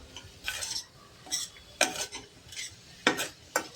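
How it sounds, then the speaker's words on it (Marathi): Spiced paneer filling gets stirred and sautéed in a pan: sharp, intermittent spatula scrapes and clinks over a faint background sizzle, close and fairly quiet. "फक्त हे मसाले शिजले जातील एवढे 1-2 मिनिटभर ह्याला हलवून परतून घ्यायचं आहे."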